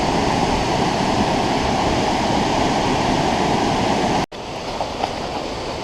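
Burney Falls waterfall roars in a dense, constant broadband wash heard close and loud, unbroken for several seconds before an abrupt cut to a quieter, more distant rush.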